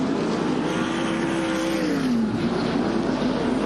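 A dirt track race car engine drones continuously as it rims the track running laps, a steady loud roar with a pitch rising and falling slightly through the turns.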